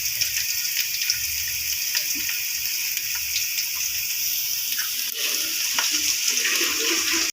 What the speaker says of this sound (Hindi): तो अब इसमें मैं 4 गिलास पानी ऐड कर रही हूँ चावल बॉईल करने के लिए